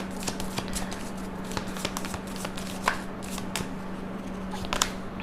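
A deck of tarot cards shuffled by hand, giving a steady run of soft riffling flicks and taps close by, with a faint constant hum underneath.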